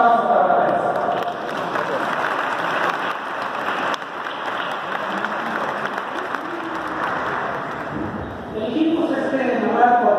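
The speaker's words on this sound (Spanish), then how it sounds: "Un aplauso para la mesa." An audience at a wedding-promotion event in Hidalgo, Mexico applauds for the panel, sustained clapping filling the room for several seconds with a voice speaking over it near the end.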